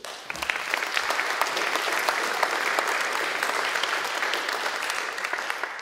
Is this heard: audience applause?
yes